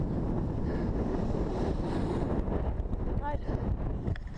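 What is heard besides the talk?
wind gusts hitting the microphone outdoors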